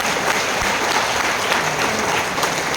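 Audience applause at a corporate event in a hall in Ranchi, dense steady clapping from a crowd throughout, loud and continuous.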